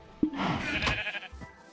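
A sheep in the Minecraft video game gives one short, close, wavering bleat that fades away within about a second.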